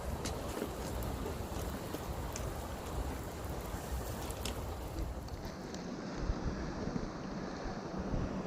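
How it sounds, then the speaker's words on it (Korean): Strong wind roars steadily across a sea fishing spot by a bridge, broadband and constant with gusty microphone buffeting and faint scattered clicks, no one speaking. "바람 불어가지고요."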